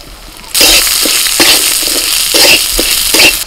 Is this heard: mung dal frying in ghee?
yes